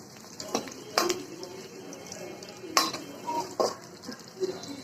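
Onion, chili and garlic frying in oil in a pan, with a steady sizzle under repeated sharp scrapes and clinks of a utensil stirring and chopping against the pan.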